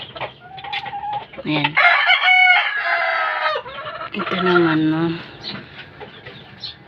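Hens cluck and a fighting rooster crows close by, its call rising among them while someone speaks briefly in between.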